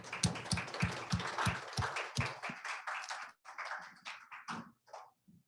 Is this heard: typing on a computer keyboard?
no